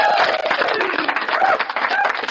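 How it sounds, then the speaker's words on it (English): Steady applause from an audience, dense clapping throughout with a faint murmur of voices underneath. "So let's go ahead and give him an applause."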